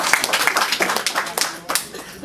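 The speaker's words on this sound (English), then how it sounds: "Please give yourself a round of applause." Scattered hand claps from a lively audience at a compensation plan presentation, uneven and fairly close, mixed with shouts and voices throughout.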